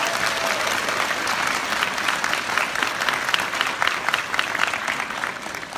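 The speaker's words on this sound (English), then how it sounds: "Let's give her a big round of applause." Sustained, loud applause from a large audience at a college commencement ceremony in Jackson, a dense continuous wash of clapping that holds steady throughout.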